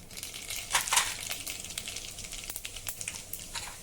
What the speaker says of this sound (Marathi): हे तेल गरम झालं की यामध्ये जिरं मोहरी घालूया.